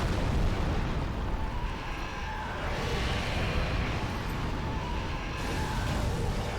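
Explosions in the video game Dark Souls 3 make a dense, continuous roaring rumble that stays loud and unbroken throughout, with no voices over it.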